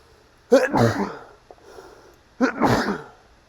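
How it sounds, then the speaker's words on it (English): A sharp sneeze bursts out, followed after a pause by a second, louder sneeze, both close and with a breathy wind-up in a quiet room. "I may sneeze."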